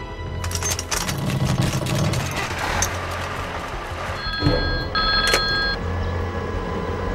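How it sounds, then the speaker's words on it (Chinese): Telephone bell ringing in a period wartime drama scene, short electric rings over a busy background of engine rumble and movement, with no voices. "请您听电话。"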